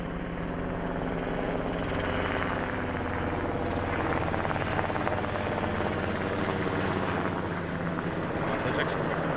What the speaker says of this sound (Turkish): Helikopter yetişer oraya bir su atabilir.